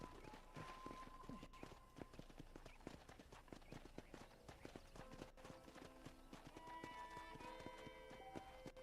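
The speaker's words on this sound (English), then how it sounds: "let's see if you can still ride a horse" Horse hooves clip-clop in a steady riding rhythm in the Red Dead Redemption video game, close and continuous over game music and ambience, with no talk.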